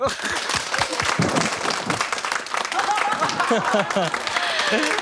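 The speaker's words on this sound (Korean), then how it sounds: "박수 쳐주세요." Applause from a studio audience on a 1998 Korean television variety show: a sustained wash of clapping runs throughout while voices talk over it.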